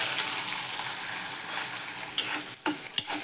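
Chopped onion fries in hot oil with cumin seeds, giving a steady close hiss and sizzle, with a few brief stirring scrapes and clinks of a utensil against the pan near the end.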